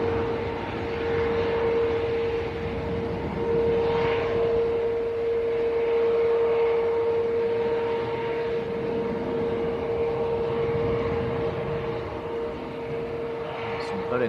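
A steady, droning aircraft engine rumble at Manchester Airport carries on throughout with a constant tonal hum, and a person talks over it.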